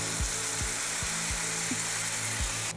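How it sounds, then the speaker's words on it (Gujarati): Water added to a hot pan of moong dal khichdi seasoned with asafoetida and salt, producing a steady, close hiss of sizzling with soft, regularly spaced low thumps underneath. "પાણી ઉમેરીએ છીએ થોડું"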